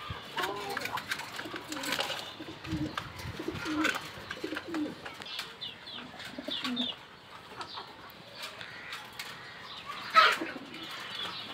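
Pet pigeons coo softly and repeatedly while wings flap in short bursts, with one sharper flutter near the end. Light background voices are faintly audible.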